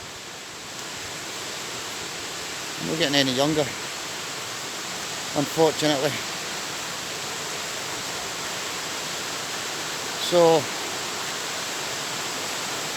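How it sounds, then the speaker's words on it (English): Flotterstone Waterfall spills off Glencorse Reservoir in winter, a steady broadband rush of falling water filling the whole stretch, with a few short bursts of someone talking nearby over it. "Waterfall is a waterfall that runs off Glencorse Dam, or Glencorse Reservoir"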